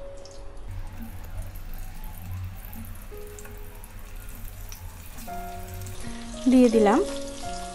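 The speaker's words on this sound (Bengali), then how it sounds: "এবারে আমি এই তেলে দিয়ে দিচ্ছি ভাপিয়ে রাখা আলু।" Steamed potatoes hit hot oil in a pan that was just used for frying koi fish, giving a steady close sizzle and crackle throughout, which grows louder near the end while a voice speaks briefly.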